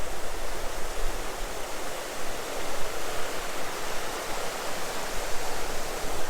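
A river runs by the end of Snowbank Lake in wilderness, giving a continuous broadband rush of flowing water. The sound is steady and fairly close, with no voices.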